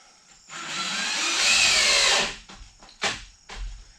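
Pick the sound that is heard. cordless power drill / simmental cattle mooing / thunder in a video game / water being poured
cordless power drill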